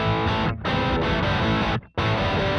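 Electric guitar through a Rev G2 overdrive pedal at half gain, thick distorted chords sustained with two short breaks, loud and close with no talking.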